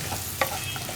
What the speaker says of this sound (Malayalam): ചേർത്തിട്ട് വീണ്ടും ഒന്ന് ഇളക്കി മിക്സ് ചെയ്യാം